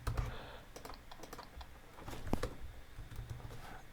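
Computer keyboard being typed on at a PC while entering network reset commands, a string of quick soft key taps with a sharper keystroke near the middle, fairly quiet and close.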